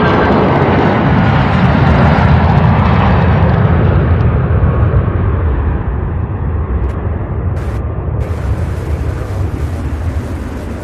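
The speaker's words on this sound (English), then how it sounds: "767 landing on 17 left, arriving here from Portland, Oregon." A Boeing 767 airliner lands on runway 17 left at Louisville, arriving from Portland, Oregon, with a loud, close jet roar and rushing engine noise that gradually settles as the aircraft rolls out.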